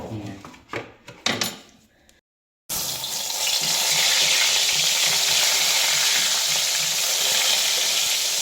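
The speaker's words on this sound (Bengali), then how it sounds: "নিচে আসার পর তো একদিকে বেগুন ভাজাটা বসিয়ে দিলাম দেখলে" Eggplant slices frying in a pan, first a few clattering knocks and bumps, then after a brief gap a loud, steady hiss of hot oil sizzling up close.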